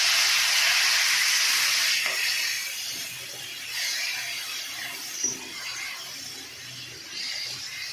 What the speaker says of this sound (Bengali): এবার আমি চিংড়ি মাছগুলো এর সাথে দিয়ে ভেজে নেবো